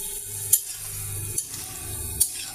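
Fish pieces sautéing in a raw jackfruit curry, with a steady low sizzle and soft stirring scrapes, punctuated by three sharp utensil clicks against the pan.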